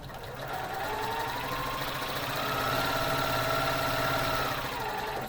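A sewing machine stitching a half square triangle quilt block, a continuous close whirring hum with rapid needle chatter that rises slightly midway and holds steady.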